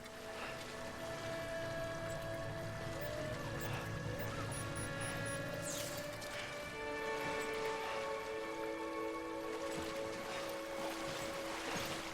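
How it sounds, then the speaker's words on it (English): Steady rain falls across an outdoor scene in the video game Death Stranding, a continuous soft hiss with low droning tones and faint tonal music underneath, no talking. "the rain's letting up."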